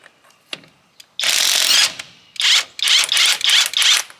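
A cordless OLMLMO 1/2-inch drive impact wrench rated at 800 ft-lbs removes a lug nut from a 2500 Ram pickup: a loud close burst of rapid hammering, a pause, then four short sharp bursts in quick succession.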